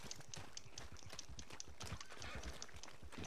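Horse hooves beat a steady, fast galloping rhythm in Red Dead Redemption 2, quiet and continuous with a soft wash of outdoor ambience behind.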